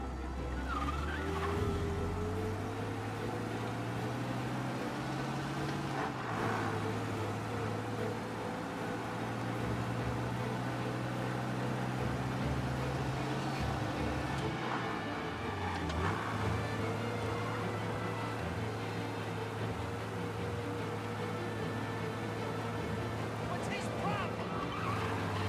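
Car driven fast to escape police in the video game Mafia, a steady engine drone with shifting revs and occasional tire noise, loud and continuous for the whole stretch; no talking.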